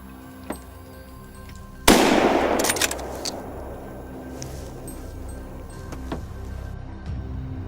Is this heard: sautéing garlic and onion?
no